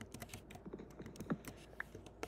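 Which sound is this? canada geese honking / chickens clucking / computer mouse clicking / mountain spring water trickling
computer mouse clicking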